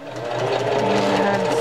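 Sewing machine running a few stitches while sewing hidden cased elastic into a pocket diaper; a close, steady motor hum with rapid needle clatter builds from a soft start to full speed, with no voices.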